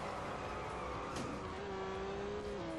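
A racing car engine in the video game Real Racing 3, a steady loud drone that rises into a sustained high whine as it accelerates, with no talking.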